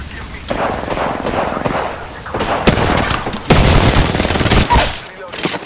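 Rapid bursts of gunfire in Apex Legends, loud and close, with several volleys cracking in quick succession and a heavier boom near the end.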